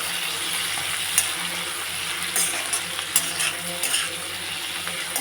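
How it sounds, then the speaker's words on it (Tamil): Small onions cook in salt in a pan, giving a steady, even sizzle with occasional light clinks of a spoon stirring against the metal. No one speaks. "வெங்காயம் வந்து கோல்டன் ப்ரௌன் ஆகியது வரை வதக்கணும்"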